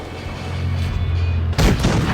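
A tank cannon fires in a tank video game, one sharp, booming blast cutting through the steady rumble of the engine near the end.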